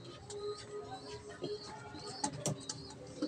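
Pigeons make soft coos and brief chirps, fairly faint and scattered, over light background noise with a few small knocks and rustles.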